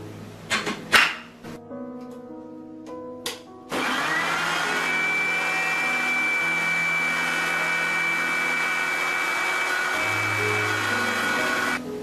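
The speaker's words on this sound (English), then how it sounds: "we are going to blend it until we have a smooth puree" A blender purees mango, sugar and milk, running at a loud, constant whir for most of the clip after a few clinks and knocks at the start.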